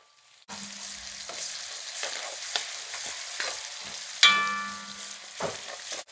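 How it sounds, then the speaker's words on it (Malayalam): Chopped ginger and garlic fry in a pan for fish pickle, giving a soft, steady sizzle broken by occasional stirring scrapes and a sharper crackle near the end, with no talking. "ഇഞ്ചി വെളുത്തുള്ളിയൊക്കെ ഒന്ന് മൂത്ത് തുടങ്ങിയാൽ"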